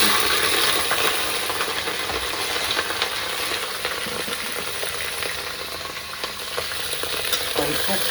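Spices and ingredients fry in oil for a mutton siri dish, a dense, continuous close sizzle with scattered stirring clicks and crackles throughout.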